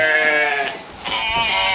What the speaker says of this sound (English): At night, the sheep are locked inside the barn.